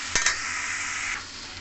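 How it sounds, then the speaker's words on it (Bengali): Chopped potatoes frying in hot oil produce a bright, close sizzle, opened by a couple of quick utensil clinks against the pan before the hiss settles and softens. "তেল ভালো মতন গরম হয়ে গেছে, এরপরে কুচনো রাখা আলু দিয়ে দিলাম"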